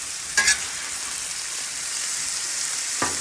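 Ground beef browning in a hot pan beside softening squash, a continuous close sizzle with two brief scraping stirs, one near the start and one near the end.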